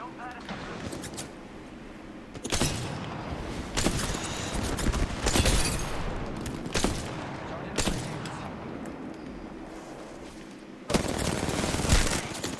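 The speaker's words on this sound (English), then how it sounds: "Listen up, I'm getting shot at." Video game gunfire, sustained bursts of automatic shots with heavier reports standing out every second or two, running under a speaker's voice for most of the stretch.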